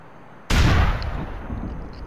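A bomb explosion in Grand Theft Auto IV: a single sudden loud blast with a deep boom, fading into a long rumbling tail.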